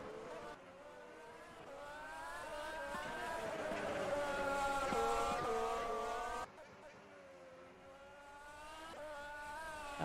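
F1 2020 race cars whine through the pit lane in a video game, engine tones rising and falling steadily at moderate distance, with a commentator talking over the sound.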